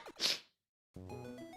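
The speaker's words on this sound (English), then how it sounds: "Sorry, that was a really loud sneeze" A single loud, sharp sneeze bursts out up close, followed by a short silence and then a brief sustained tone.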